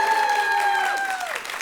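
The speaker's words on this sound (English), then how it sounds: "Let's give them a round of applause." An audience applauds at a school quiz competition, a dense wash of claps that holds steady and then thins out, with a sustained tonal sound ringing over it.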